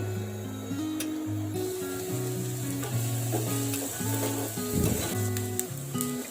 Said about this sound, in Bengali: পেঁয়াজটা একটু ভাজা হওয়ার পর